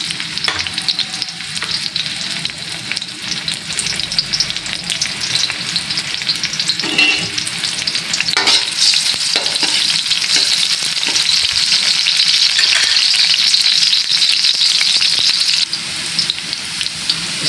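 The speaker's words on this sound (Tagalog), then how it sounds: "Igisa na natin ang sibuyas." Onions sautéing in hot oil in a pan for pancit canton and bihon guisado, a loud continuous crackling sizzle that swells and stays steady close up, with occasional stirring clatter and no voices.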